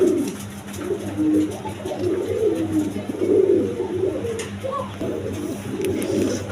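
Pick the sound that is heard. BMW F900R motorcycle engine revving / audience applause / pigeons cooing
pigeons cooing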